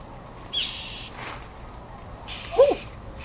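A bird gives two short sharp calls, a brief high one and then a louder lower squawk, during a fight with a cat, with faint background sounds in between.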